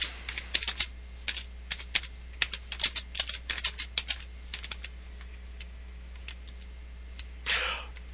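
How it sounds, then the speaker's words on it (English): Typing on a computer keyboard, an irregular run of close, crisp key clicks with occasional heavier space bar hits, fading into sparse taps before a brief soft burst of noise near the end, over a low steady hum. "As you may have heard, I hit the space bar quite a few times there."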